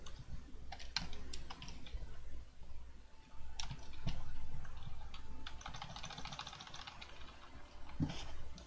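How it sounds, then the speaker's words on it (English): Fast typing on a laptop keyboard whose little feet have broken off, so it rattles as it is struck: a steady run of sharp clicks and taps, close and fairly loud, with no one talking. "with my keyboard, it's even louder than usual. I actually broke the little feet off the bottom of it, and it rattles."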